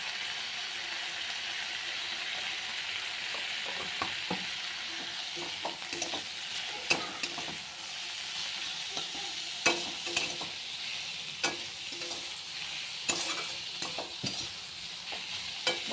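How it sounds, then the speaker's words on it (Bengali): A paste of potato and pointed gourd peel frying with turmeric on low to medium heat, a steady sizzle with repeated scraping stirs and sharp utensil clacks against the pan, nearby with no talk. "নাড়াচাড়া করে লো টু মিডিয়াম আছে হালকা করে ভেজে নেব"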